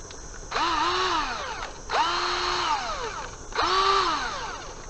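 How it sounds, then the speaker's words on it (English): A cordless drill running on a swapped-in lithium-ion battery whirs in three separate bursts, each rising in pitch as the motor spins up, then falling away, with brief pauses between them. "A working drill."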